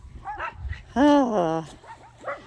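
A ranch dog gives a few short barks and yips, close and fairly loud, with a whimpering rise in the middle, while a person talks nearby.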